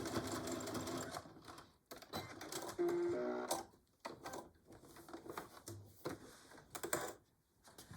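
A sewing machine back stitching in short bursts, stopping and starting as it stitches back and forth, with small clicks and handling noises between runs.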